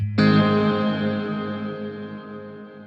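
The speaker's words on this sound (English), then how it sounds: "we're actually on a room reverb with 5 seconds of decay" A guitar chord struck through a BOSS RV-500 reverb pedal set to a room reverb with five seconds of decay rings out loudly, then a long smooth tail fades slowly without dying out.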